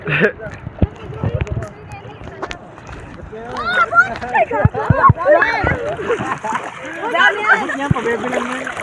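Ocean waves splashing against the shore at Agno, Pangasinan, a rushing, churning wash with irregular splashes, heard under people talking and shouting nearby.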